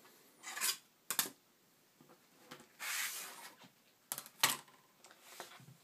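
Cutting fabric beside a 6.5 by 12.5-inch lefty-righty quilting ruler on a cutting mat, heard as several short, quiet swishing and rasping strokes in bursts separated by pauses.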